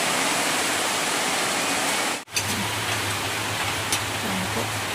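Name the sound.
heavy rain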